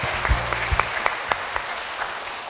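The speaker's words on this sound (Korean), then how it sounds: "여러분 박수 보내주세요." Audience applause at a club anniversary event, a short burst of clapping with a few louder individual claps standing out over a steady patter.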